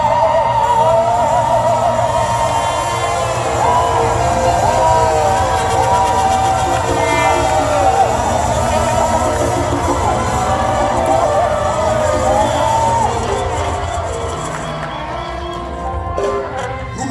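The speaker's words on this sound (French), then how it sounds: "Je nous dis poussez des cris de joie" Large crowd at a farewell gathering yelling and cheering with joy, a loud sustained roar of many voices with whoops that eases slightly toward the end.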